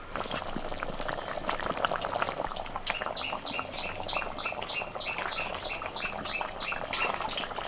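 Masala gravy for a Bengali koi fish curry bubbling in a pan, with a continuous close simmer of popping bubbles and a steady run of small rhythmic plops partway through.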